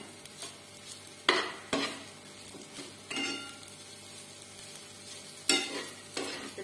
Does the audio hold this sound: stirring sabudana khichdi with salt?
yes